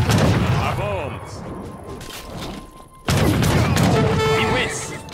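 Bombs exploding in Age of Empires III Definitive Edition amid battle noise and gunfire, with a rumbling barrage that fades and then a sudden loud blast about midway, followed by sustained crashing and crackling.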